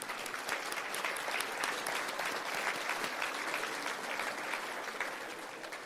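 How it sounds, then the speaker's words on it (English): Steady, dense applause from a large audience at a charity gala fills the room, loud and continuous without a break, with no speech over it. "A round of applause for our sponsors,"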